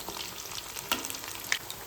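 Coriander vadi fry in a pan, giving a steady close sizzle with a few sharper crackles and a brief clatter as pieces are flipped, and no voices.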